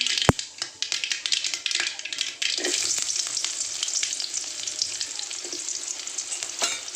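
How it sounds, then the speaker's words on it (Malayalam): Small onions fry in hot oil in a pan with mustard seeds while being stirred, a steady close sizzle with scraping stir strokes and a sharp tap near the start. "ചെറിയ ഉള്ളി ഇട്ട് നന്നായിട്ട് ഇളക്കി കൊടുക്കുക"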